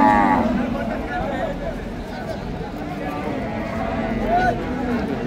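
Cattle low at a busy outdoor cow market in Nalitabari bazaar, Sherpur, with a drawn-out moo near the start and another near the end over crowd murmur and voices.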